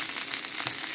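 Meatballs and lardons fry hard in a pan, the lardons close to burning, giving a loud, dense, steady crackle and sizzle with spitting fat pops, close up and with no voices.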